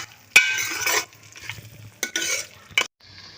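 A spoon stirs a meat and chana dal curry in a pot after stock is poured in, giving scraping, wet stirring sounds in several bursts with pauses between them.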